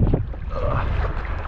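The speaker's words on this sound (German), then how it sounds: "Leute, der Wind ist brutal." Strong gusting wind on Lake Constance during a stand-up paddleboard crossing, roaring and buffeting the microphone with a low rumble and splashing water, loud and close with no speech.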